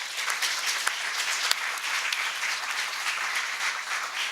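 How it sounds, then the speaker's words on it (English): An audience at a student awards ceremony breaks into dense, loud, sustained clapping, an even wash of many hands with no pauses. "can we get a big round of applause for that?"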